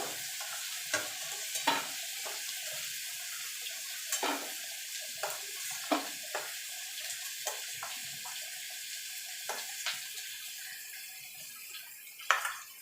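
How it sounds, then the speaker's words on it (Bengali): Potatoes fry in oil with a soft, steady sizzle, punctuated by intermittent clinks and scrapes of a utensil turning them in the pan. No one speaks. "আলুগুলো লাল লাল করে ভেজে নেব"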